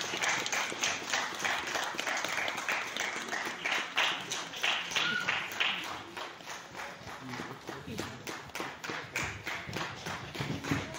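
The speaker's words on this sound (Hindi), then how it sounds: "ताली बजाउने आग्रह गर्छु।" Audience at a lamp-lighting ceremony marking National Voters' Day applauding in a steady run of sharp, quick claps, fairly faint and roomy, with no voice over them.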